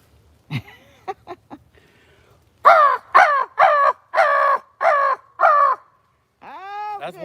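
A person voices a crow call outdoors in the woods, giving a few short clicks and then six loud, harsh caws in steady rhythm, ending with a higher drawn-out cry. The imitation sounds close and clear, with no other talk.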